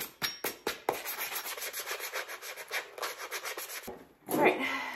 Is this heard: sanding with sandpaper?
yes